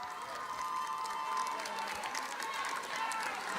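Crowd applause and cheering from a televised national song-contest final audience fill the clip, steady and fairly distant, with a host's voice speaking over it.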